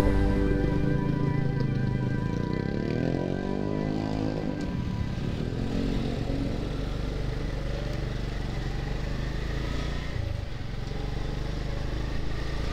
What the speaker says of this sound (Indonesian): Knalpot drone seperti itu memang cukup mengganggu ya, beneran. Itu desibelnya itu di atas 85 itu.